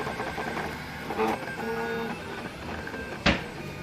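A 3D printer in Taiwan extruding purple plastic: steady mechanical whirring with tonal stepper-motor whines shifting pitch, close and continuous, with one sharp click near the end.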